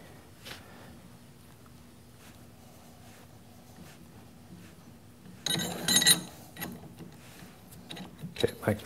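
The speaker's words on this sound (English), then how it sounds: "And let's extract the pulley." A gear puller draws a pulley off the shaft of a lathe motor on a G0602 lathe, giving a quiet mechanical creak followed by a louder burst of clicking, scraping metal and a final clank near the end.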